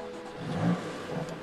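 A BMW engine revving with a steady mid-pitched drone that swells briefly in the middle, heard up close inside the car with no talking over it.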